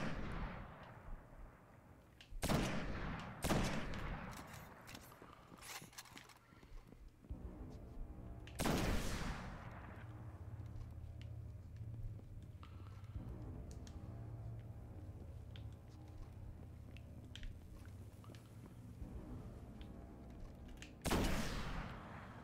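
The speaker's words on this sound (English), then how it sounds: "So I'm going to switch over to Efreet Spear. Take some pot shots at these guys." Gunfire in the Destiny Nightfall strike Cerberus Vae III, with a few sharp, loud shots standing out over a steady rumbling combat backdrop and another burst near the end.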